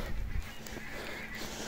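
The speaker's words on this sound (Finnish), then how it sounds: "kuuluu vaan niinku ankkoja laulua täällä" Wild ducks call in the dark near Finnish countryside roads, a faint, honking chorus heard at a distance over steady background noise.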